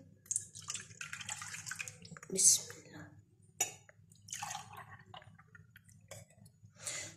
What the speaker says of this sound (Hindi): दो कप ये दूध डालना है और एक कप इसमें पानी डालना है